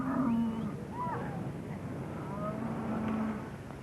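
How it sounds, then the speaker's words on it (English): A herd of cattle on an open range, lowing and mooing in long drawn calls at a moderate distance, overlapping one another against a steady rumble of outdoor background noise. "Nice-looking bunch of cattle."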